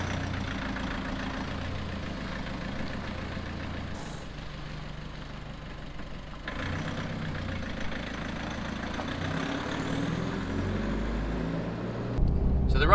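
Nissan Navara D40 with a YD25 diesel engine, freshly repaired after an oil cooler split, idles steadily with a low, even rumble for several seconds and no talk over it.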